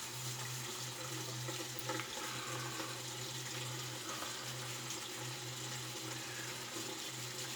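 Water runs steadily from a tap while shaving soap is worked into a lather, a continuous close hiss with a low hum underneath and no talk.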